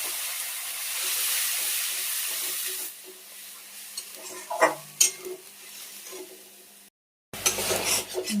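Bay leaf and whole cumin frying in oil in a kadai, a soft continuous sizzle broken by spoon scrapes and clinks against the pan, with a brief silence and a louder burst of stirring and sizzling at the end.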